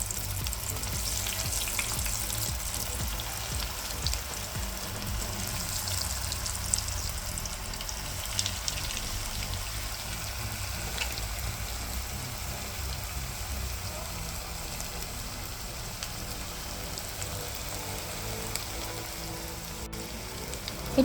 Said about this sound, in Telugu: ఇప్పుడు ఒక ప్యాన్లో నూనె వేడి చేసుకున్నాక ఇలా వేసుకోవాలి.